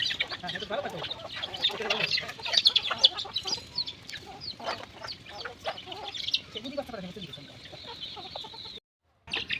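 A flock of chickens cluck and squawk busily while being fed, with scattered pecking and rustling and a faint voice now and then.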